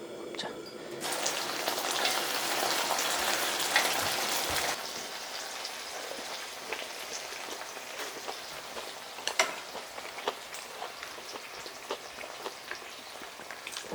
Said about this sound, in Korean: 왜냐면 대창을 구울 건데 얘네를 살짝 옆으로 밀고 이쪽에다가